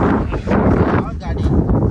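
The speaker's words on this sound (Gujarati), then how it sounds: "વાવ જોરદાર વાયરો હો ભાઈ" Strong outdoor wind buffets the microphone in an open empty area, with loud, uneven low rumbling gusts throughout the short moment.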